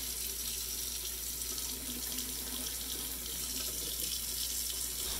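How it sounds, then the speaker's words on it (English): A sourdough starter scoop is rinsed under a running kitchen faucet, a steady close hiss of water splashing into the sink for the whole stretch without a break. "when you get your water, you have the opportunity to rinse your scoop and you don't have to wash it"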